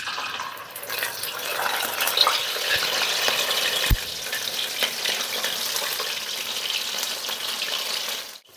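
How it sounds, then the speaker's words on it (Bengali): Chicken leg pieces deep-fry for a second time in hot oil, giving a dense, continuous bubbling sizzle up close with a couple of brief clanks partway through, and no voices. "ঘুরিয়ে ফিরিয়ে আমরা 2-3 মিনিটের মতো এটা ভেজে নেব, তারপর তুলে নেব।"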